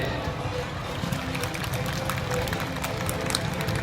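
Audience clapping for a lower-secondary (Mathayom 3) student being introduced on stage, a dense, steady wash of many hands that holds evenly for the whole stretch, with crowd murmur and voices mixed underneath.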